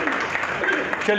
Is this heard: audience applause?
yes